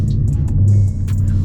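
A Ford Mustang GT with a 10-speed transmission rumbles loudly and steadily from close by, its deep engine note sustained throughout with no talking.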